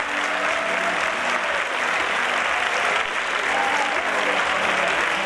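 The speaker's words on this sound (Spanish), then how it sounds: "Fuerte aplauso para ella." Audience applause at a Guardamar queens and ladies election gala, loud continuous clapping from a large crowd filling the whole stretch without letup.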